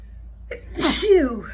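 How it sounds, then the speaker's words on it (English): One loud, close sneeze bursts out after a short sharp inhale, trailing off into a breathy exhale. "Oh, I'm going to sneeze."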